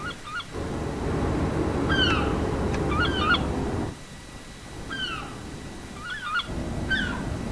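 Seagulls in the European Ship Simulator video game cry in repeated short calls over a steady rumble of sea and ship ambience, the background briefly dipping between bursts.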